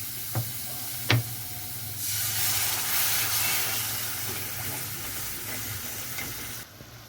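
Water is poured into hot frying spice masala that has released its oil, for a Bengali katla fish kalia, bringing up a loud, steady sizzling hiss that lasts several seconds before it cuts off, after a couple of faint knocks.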